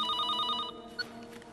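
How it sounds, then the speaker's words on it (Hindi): An office telephone rings in a short burst of trilling electronic rings at moderate loudness, then cuts off. A faint click follows, with no talk over it. "सर, सिटी हॉस्पिटल से डॉक्टर पटवर्धन का फोन।"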